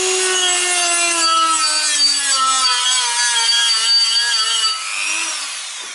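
Power sander working on a car's brake area, a loud continuous whine with rising and falling pitch, running steadily before tapering toward the end.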